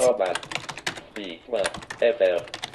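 Rapid braille keyboard typing, a dense run of clicks and taps, heard up close with a voice speaking over it.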